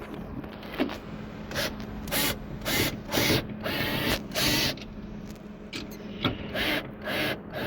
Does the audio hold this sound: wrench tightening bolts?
yes